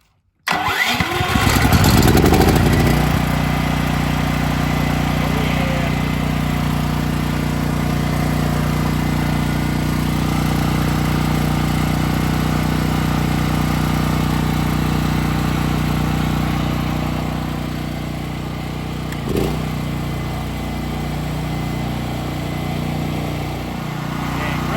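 A small engine starts with a sputtering burst, then settles into a steady, loud idle that runs on continuously with slight fluctuations, close to the listener.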